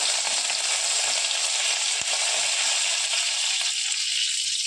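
Asafoetida and curry leaves hit hot oil with cumin for a spicy red pumpkin stir-fry, producing a loud, dense, unbroken sizzle close by with one brief click, and nobody talking.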